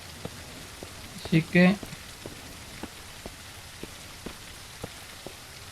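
Steady rain falling outdoors, a soft continuous patter with scattered individual drops ticking at irregular intervals, briefly interrupted by a short spoken remark early on.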